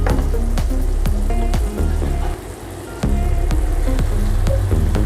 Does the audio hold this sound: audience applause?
no